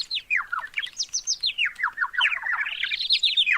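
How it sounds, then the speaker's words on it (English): Birds in a video game woods chirp and tweet in a rapid, continuous string of sweeping, warbling notes, loud and close, with no other sound beneath. "this is overloading bird sounds"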